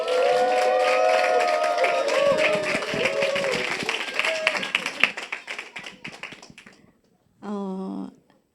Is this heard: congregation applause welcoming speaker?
yes